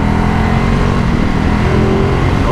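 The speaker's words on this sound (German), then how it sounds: "Oh, dieser Motor, das ist echt, das ist schon geil. Aber es ist halt V2 Geboller, ne?" A Ducati SuperSport 950 S with its V2 engine revs loudly and steadily up close, a dense, continuous motor roar with no speech over it.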